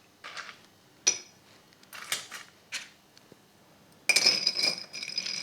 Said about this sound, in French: je vais rajouter quelques glaçons, histoire d'arriver au niveau de service attendu dans un bar